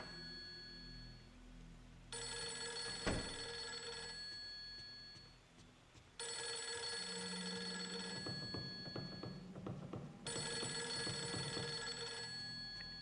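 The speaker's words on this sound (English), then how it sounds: "I know the phone's still ringing." Telephone ringing in the survival horror video game Fatal Frame 3, three long bursts of bright electronic ringing separated by pauses, with game ambience and faint footsteps underneath.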